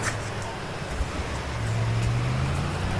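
A motor vehicle approaches along a village road, its engine drone rising and growing steadier and louder over a few seconds amid outdoor wind noise.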